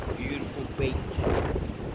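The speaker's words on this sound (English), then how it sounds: "there's just a lot of wind" Gusty wind on the beach at Barwon Heads buffets the microphone with a low rumbling roar that swells and eases over two seconds.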